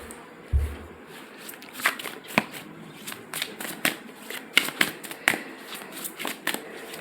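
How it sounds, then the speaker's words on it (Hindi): Tarot cards are shuffled by hand in a series of crisp riffling snaps and flutters at an uneven rhythm, close and fairly soft, with one low thump early on and no speech. "तब तक हम कार्ड शफल कर चुके हैं"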